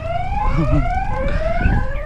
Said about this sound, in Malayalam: ഇവിടെയുള്ള ക്യാമറയിലെല്ലാം അലാറം വെച്ചിട്ടുണ്ട്